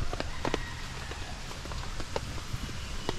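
Rain falling on a surface at a minivan campsite in San Pablo, Laguna, a dense patter of drops with scattered sharper taps, fairly faint and steady throughout.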